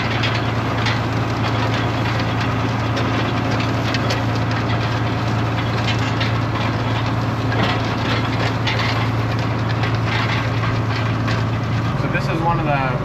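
Farm tractor engine idling steadily during a potato harvest, a continuous low drone with a constant hum and mechanical rattle, close and loud throughout, shifting tone near the end.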